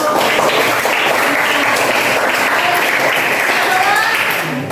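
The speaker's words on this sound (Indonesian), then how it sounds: "Tepuk tangan dulu." Applause from a class group follows a teacher's praise during an Indonesian lesson, a dense steady patter of many hands that stays loud across the whole stretch, with a little speech mixed in.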